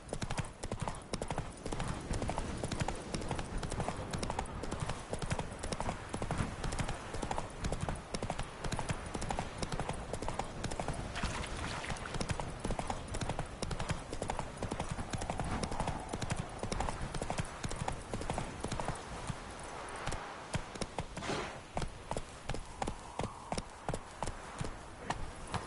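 A horse's hooves clip-clop at a steady gallop in The Witcher video game, a rapid, continuous hoofbeat rhythm that lasts the whole stretch, close and fairly loud, with some faint ambient game sound underneath.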